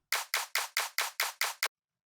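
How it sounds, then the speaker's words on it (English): Clap drum sample from a bass house track in FL Studio, played eight times in quick, even succession, each hit a bright crisp snap with a short decaying tail, ending in silence. "We have this clap."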